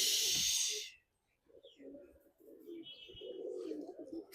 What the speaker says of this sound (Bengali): এদিকেও নরের খাঁচায় প্রায় অনেক কবুতরই আছে